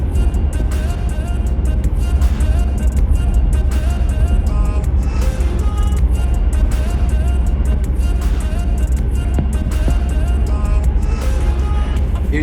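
A 1986 Toyota 4Runner 4x4 drives through a snow storm, its steady engine and road drone loud and continuous from inside the cab, with faint rattles and no talk.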